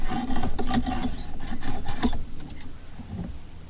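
A knife is sharpened with a series of quick, rhythmic scraping strokes across a sharpening tool, close and fairly loud, slowing and fading toward the end.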